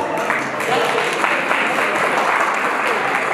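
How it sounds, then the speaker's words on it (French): Steady, loud applause from the audience at a King and Queen independence evening, a continuous crowd of clapping hands with no pauses across the few seconds. "Merci de les applaudir encore une fois."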